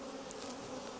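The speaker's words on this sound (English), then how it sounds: "Leave the bees collecting the honey, and we'll see how we go on over the next couple of weeks." Honey bees hum steadily around a beehive box during a summer hive check, a continuous buzzing drone with brief louder passes near the listener and no voices.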